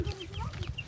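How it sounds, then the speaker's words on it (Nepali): Chickens cluck and chicks peep softly in a short, busy burst, with low rumbling noise underneath. "एकछिन चल्लालाई छोडिदिन्छु"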